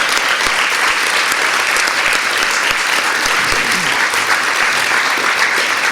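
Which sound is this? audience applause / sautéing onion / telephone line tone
audience applause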